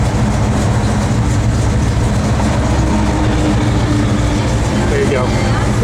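A 1970 Chevrolet Chevelle SS big-block V8 runs steadily, with a loud, continuous low rumble filling the whole stretch and no clear revving.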